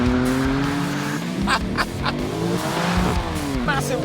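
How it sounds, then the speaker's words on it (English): A BMW M4 and a Lexus RC-F launching in a drag race, with engines revving and tires squealing in wheel spin, loud and close, while voices talk over the noise. "Oh, wheel spin, wheel spin, wheel spin."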